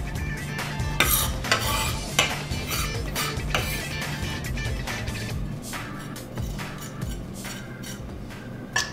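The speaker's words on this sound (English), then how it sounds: "I'm gonna scrape every last little leaf up" Chopped herb leaves being scraped into a prep bowl, with a busy run of close scraping strokes and light metallic clinks and knocks, irregular bursts with no voices.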